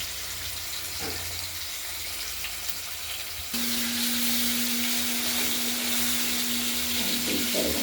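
Katla fish fries in a pan with a steady crackling sizzle that grows louder and denser partway through and carries on without a break.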